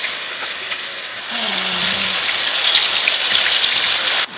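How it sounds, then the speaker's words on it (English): Ginger garlic paste hitting hot oil with crushed fenugreek and fennel seeds for a king fish pickle, a loud, steady, close hiss and crackle that swells suddenly and then holds. "Sauté the whole thing so the raw flavor will just vanish"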